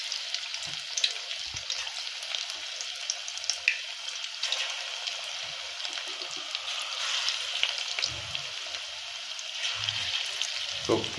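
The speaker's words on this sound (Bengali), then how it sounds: "এবার তেলের উপর ছেড়ে দেওয়া হবে।" Cauliflower pakoras in a red lentil paste batter frying in oil make a moderate, steady sizzle with scattered crackles and a few soft low bumps, close by and without talking.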